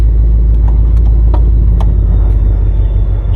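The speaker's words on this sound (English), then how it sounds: "Which for factory exhaust sounds pretty decent." A Ford Mustang GT engine idles with a deep, steady factory exhaust rumble close by, punctuated by a few faint clicks.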